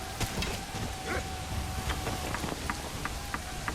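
Steady rain hisses throughout a battle in the medieval strategy game Manor Lords, with scattered faint clatters and impacts poking through the constant wash.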